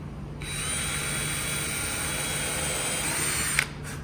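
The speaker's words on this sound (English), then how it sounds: "I wanna pre-drill the holes" A power drill pre-drills holes in wood for a tent part box, a steady high motor whine holding for about three seconds before stopping with a small click, alone and close.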